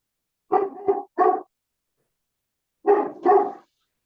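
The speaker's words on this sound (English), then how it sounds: "You have agreement from the dog." A dog barks in short bursts during a PUC 911 Task Force meeting: a quick double bark, another single bark, then a pause before two more barks. The barks are fairly loud and near, with no talk over them.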